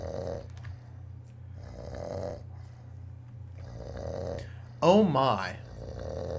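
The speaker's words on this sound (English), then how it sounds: "there's a man snoring underneath an apple tree" A man snores beneath an apple tree in the puzzle video game The Bridge, slow repeated snore cycles at a steady rhythm, close and clear, with a brief spoken exclamation over one breath near the end.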